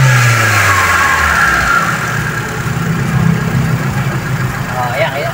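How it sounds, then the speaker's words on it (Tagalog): A Mitsubishi Lancer with a 4G13 engine and carburetor revs and then settles back to a steady, loud idle close by, with someone talking over the engine. "Dati pag nire-rev mo, nag-i-stack ka dyan sa 900, 1000"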